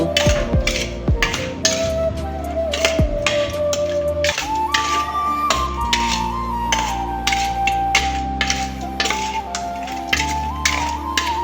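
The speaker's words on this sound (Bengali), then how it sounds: "দিয়ে আমি এখন মাছগুলো একটি চামচ দিয়ে ভালো করে মেখে নেব।" Metal spoon scraping and clinking in a bowl while rohu fish pieces are mixed with turmeric powder, a steady run of sharp taps and clatter at close range over a low steady hum.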